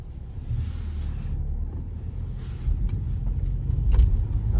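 A 2020 Audi A6 Avant estate with the 2.0 TFSI 45 petrol engine, quattro and S tronic gearbox, heard from inside while driving in dynamic mode: a steady low engine and road rumble that swells slightly toward the end, with no talk.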